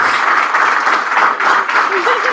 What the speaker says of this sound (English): there's an amazing standing ovation right here